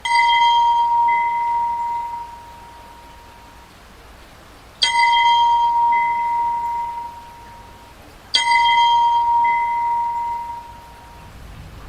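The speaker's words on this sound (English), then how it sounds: "I heard a bell from far away, coming from the north." A distant bell rings three times at slow, uneven intervals, each strike ringing out clearly and fading slowly against a quiet background.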